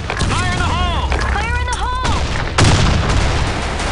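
Gunfire and a grenade blast in the online shooter BlackShot, with bursts of shots and a sudden heavy boom near the end, all under excited player voices talking over the action.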